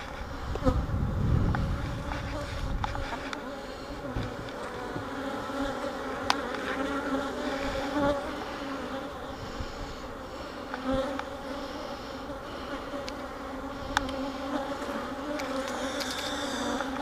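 Honey bees swarm and buzz around a hive box as honey is being pulled, a dense continuous drone from many insects close by, louder in the first few seconds then holding steady.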